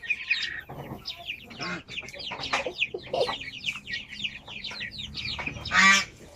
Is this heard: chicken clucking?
yes